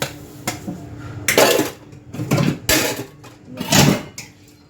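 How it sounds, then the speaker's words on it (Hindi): Dirty utensils and pots are washed and scrubbed by hand, with repeated bursts of metallic clattering and scraping at an irregular rhythm, close and fairly loud. "तो इन बर्तनों को मांज ले रही हूँ"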